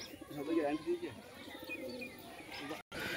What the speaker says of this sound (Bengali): এই যে এই পায়রাটা, হ্যাঁ আন্ধ্রা বাচ্চাটা